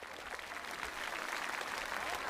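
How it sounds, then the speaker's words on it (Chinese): Children clap together in a steady, continuous round of applause at a Yue opera event, a dense even patter held at moderate level for the whole stretch. "来，小朋友们，鼓掌！"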